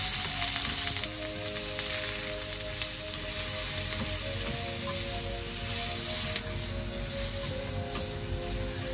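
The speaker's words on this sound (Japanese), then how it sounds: "この大根はごま油で炒めるよ。" Daikon radish stir-fried in sesame oil sizzles loudly and continuously, a close, dense hiss with a faint steady hum beneath it.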